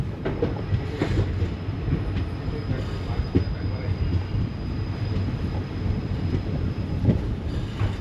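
The Mysore–Talaguppa Intercity Express rolls into Talaguppa station, its final stop, with a steady rumble and wheel clatter heard from inside a nearly empty compartment and a thin high whine running throughout.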